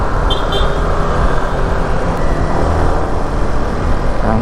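Continuous road traffic at night in Balibago, Angeles, heard on a ride through town: cars and other vehicles rush past close by in a loud, steady roar with overlapping engine and tyre noise.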